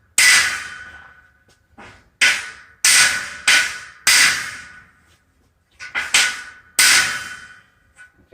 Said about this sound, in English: now also I'm damaging the paint with a hammer